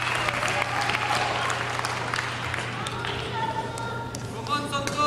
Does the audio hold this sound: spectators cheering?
yes